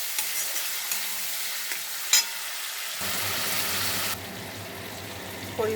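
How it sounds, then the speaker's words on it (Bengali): Spice paste with chopped tomato and green chilli sizzles loudly in a pan for rui fish curry while it is stirred, with occasional scrapes and a steady hiss that drops in loudness partway through. "মশলা ভালোভাবে কষিয়ে নেব।"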